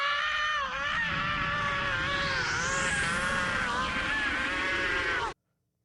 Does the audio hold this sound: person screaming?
yes